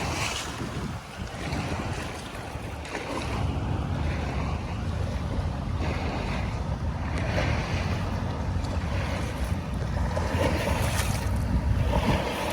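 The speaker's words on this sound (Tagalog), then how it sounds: "Grabe naman yung alon." Waves wash against the shore along Manila Bay near the dolomite beach in a steady, rolling surge, with heavy gusts of wind buffeting the microphone throughout.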